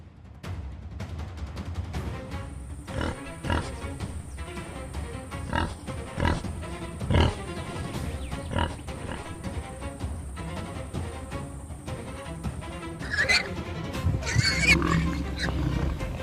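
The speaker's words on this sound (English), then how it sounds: "Panic spreads through the group of warthogs, which scatter in every direction, squealing and crashing through the underbrush." A group of warthogs in the Nigerian wild squeal and crash through the underbrush as they scatter, giving a dense, continuous scramble of grunts and rustling with sharper bursts throughout and a busier flurry near the end.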